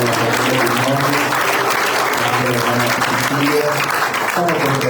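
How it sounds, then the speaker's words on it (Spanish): Church congregation applauding a family in dense, steady clapping that fills the room throughout, with voices and cheers mixed underneath. "Y ahora un aplauso para la familia Quiñones."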